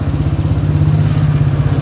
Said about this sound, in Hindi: लेकिन है तो हमें यहाँ पे बाइक अपनी पार्क करनी है।